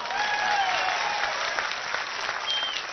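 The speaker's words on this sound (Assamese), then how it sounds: "মাৰা হাত চাপৰি এটা" A political rally crowd claps in sustained applause, a dense, loud wash of many hands heard from within the gathering, steady for the full few seconds.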